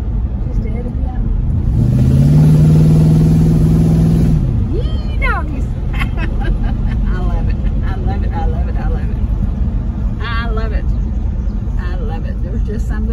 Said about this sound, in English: Can y'all tell that this car's got dual exhaust cherry bombs?